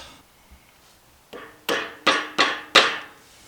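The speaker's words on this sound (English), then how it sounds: "Pound that in until it's lined up in there correctly." A hammer pounds a cotter pin part into a Harbor Freight trailer wheel hub during a bearing repack, giving one lighter tap and then four sharp metallic strikes in quick succession, close and clear.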